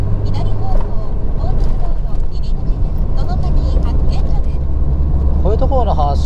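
A Nissan Skyline R33 GT-R (BCNR33) pulls away from a stop, its engine a steady low rumble running under someone talking throughout.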